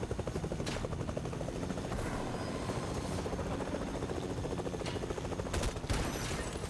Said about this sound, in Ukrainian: Убить вертушкою.